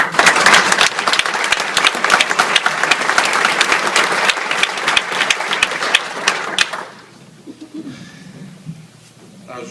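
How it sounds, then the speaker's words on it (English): An audience at a judge's swearing-in ceremony breaks into loud, sustained applause lasting about seven seconds, then it abruptly thins into quiet room noise with faint low murmuring. "So let's give a round of applause"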